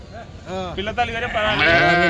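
Sheep bleat at the Pebbair sheep market, several wavering, drawn-out calls overlapping closely amid busy livestock-market noise.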